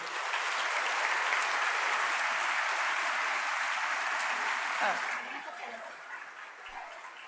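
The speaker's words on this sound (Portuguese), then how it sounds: "Uma salva de palmas para eles," Sustained applause from a large crowd at a political panel, loud and steady, then thinning out near the end as the clapping fades.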